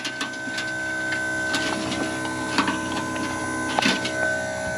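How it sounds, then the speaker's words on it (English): An electric fuel pump runs on an old Spra-Coupe crop-spraying aircraft. It gives a steady mechanical hum with a fast ticking rhythm and occasional sharper clicks, close and fairly loud, with no voices. "All right, gonna plug the fuel pump in."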